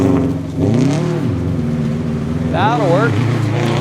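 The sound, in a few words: Subaru STI rally car accelerating on stage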